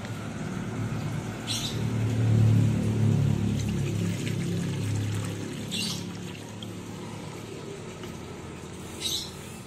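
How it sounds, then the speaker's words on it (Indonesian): Plain water pours into a pot for making cincau from shrub leaves, a steady low splashing stream that swells then eases, with a few faint clicks and no talking. "pertama-tama uh, kita masukkan air putihnya dulu"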